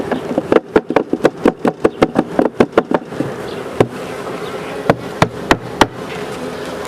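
Bees buzz steadily around a beehive honey super, a loud, close drone broken by a rapid series of sharp knocks and taps that thin out into sparser hits.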